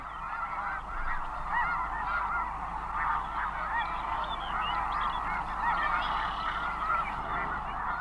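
Snow geese honking as pairs fly around in search of a nesting site on their northward migration, a dense, steady chorus of many overlapping calls that runs the whole time without pause.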